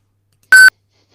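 A phone gives a single short, clean electronic beep, loud and close, with silence on either side.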